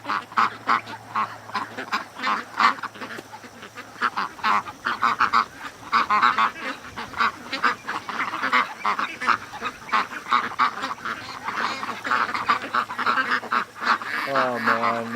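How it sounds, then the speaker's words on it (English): Ducks quack and honk constantly and close by in a busy flock, with people talking over the din. "it's so cool seeing how close the ducks will go to him"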